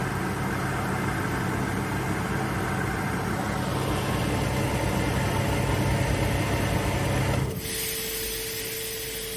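An Atlas Copco oil-free screw compressor with an integrated air dryer runs as a steady, dense mechanical hum, then winds down near the end, leaving a quieter, softer tone.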